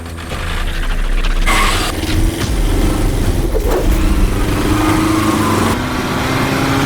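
A vehicle engine turns over and runs steadily, the motor pulling away with a mechanical rattle, loud and close, with a brief higher whine as it moves off.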